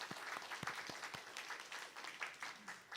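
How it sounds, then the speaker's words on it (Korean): A church congregation applauds during a Sunday service, a steady patter of many hands, moderately distant and soft, with occasional sharper individual claps standing out. "박수하도록 하겠습니다"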